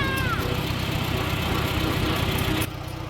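A Farmall Super A tractor engine runs steadily and close by on a day out rolling, a low chugging idle-like drone that holds constant and drops slightly in level near the end.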